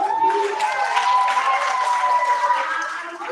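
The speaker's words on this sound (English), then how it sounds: "Let's give her another round of applause." Audience applause at a women's leadership academy event, a steady wash of clapping from a crowd holding at an even level for a few seconds before easing slightly.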